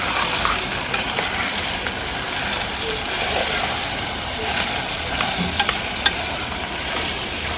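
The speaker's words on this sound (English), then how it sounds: "Need it to be rapidly frying." Parrot meat seasoned with pimento allspice fries rapidly in a hot pan outdoors, giving a steady loud sizzle with occasional sharp pops and crackles throughout.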